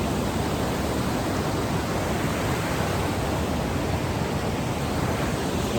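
A river rushes right beside a hotel in Harsil, a steady, dense roar of flowing water that stays close and unbroken throughout, with no voices.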